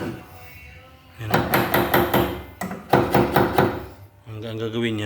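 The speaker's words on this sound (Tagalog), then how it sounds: "Ang gagawin yan, papaluin na lang yan." A hammer drives a headless nail into an old plywood bed frame in two close runs of sharp, evenly spaced blows, loud and near, followed by a voice speaking at the end.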